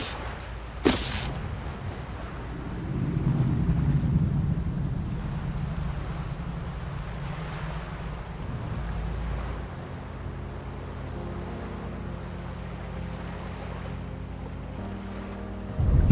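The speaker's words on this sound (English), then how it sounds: "Look at the realistic waves, dude." Ocean waves roll beside a boat in the video game Industria 2, a steady low wash of surf and wind that swells early and stays at a constant moderate level, with a brief sharp sound near the start and no talk.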